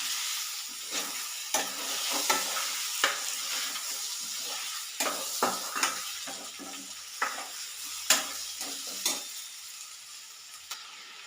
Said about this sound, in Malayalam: തക്കാളിയും ഉള്ളിയും എല്ലാം നല്ലോണം നല്ല വഴന്ന് കിട്ടണം